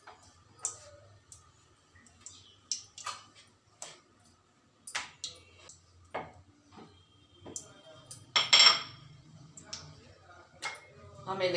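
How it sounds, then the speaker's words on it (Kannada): A rolling pin works thick poori dough, gathered like chapati dough, across a board at close range: irregular light wooden clicks and taps, some sharper knocks, over a quiet low hum. "ಚಪಾತಿ ಅಷ್ಟು ಜಾಸ್ತಿ ತಗೊಂಡು ಈಗ ಇದನ್ನು ಲಟ್ಟಿಸ್ಕೊತಾ ಇದ್ದೀನಿ"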